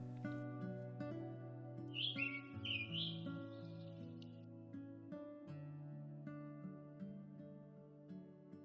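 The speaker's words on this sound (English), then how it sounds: "The golden cheek warbler, which only breeds in a few central Texas counties, can still be seen elsewhere during migration." Golden-cheeked warbler singing in central Texas, a few bright chirping phrases standing out briefly over a steady backdrop of layered instrumental music.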